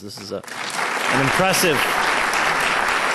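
An audience at a lecture breaks into sustained applause, a broad wash of clapping that swells and holds, while someone speaks briefly over its start.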